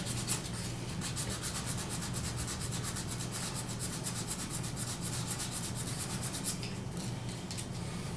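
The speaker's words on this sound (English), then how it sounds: "sand the nose a little bit." A small carved wooden hedgehog is hand-sanded with steady, rapid back-and-forth rubbing strokes, close and continuous, slowing briefly near the end.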